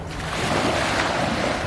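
Ocean waves on Biloxi Beach on the Gulf of Mexico roll in as a steady, broad wash of surf, mixed with wind rumbling across the microphone, no voices.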